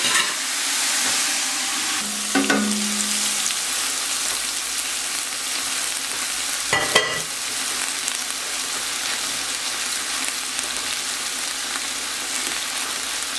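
Vegetables for a vegetable stock sweating in a pan, a steady close sizzle with a couple of brief clanks from a utensil, no talking.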